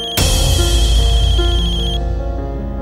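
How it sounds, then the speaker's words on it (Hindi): An electronic phone ringtone starts abruptly and plays a steady, sustained melodic tone, loud and close, with no talking. "अबीर का फोन।"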